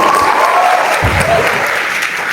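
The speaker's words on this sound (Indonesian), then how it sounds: "kasih tepuk tangan." An audience at a political talk breaks into loud, dense applause, a steady wash of many hands clapping together that holds level throughout, with a faint low murmur beneath.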